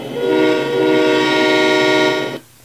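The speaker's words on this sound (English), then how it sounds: "Just like 5 seconds so we can hear the horn." Diesel locomotive horn in the Trainz 2006 railroad simulator game, one sustained, loud multi-tone chord blast held for over two seconds and then cut off abruptly, with no talking over it.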